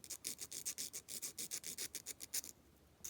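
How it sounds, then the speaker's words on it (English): Sandpaper rubbed back and forth along the edges of a metal lock pick, a quick run of about fifteen rhythmic raspy strokes, close and clear, with no talking. "you flatten out your sandpaper to go in there, and you do your edges"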